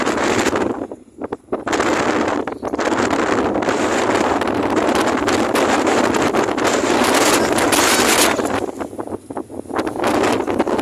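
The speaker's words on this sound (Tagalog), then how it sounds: "Lakas ng hangin kasi winter pa dito ngayon." Strong winter wind blasting and buffeting the microphone on the Tseung Kwan O Bridge, Hong Kong, in loud, sustained gusts with brief lulls, no voices.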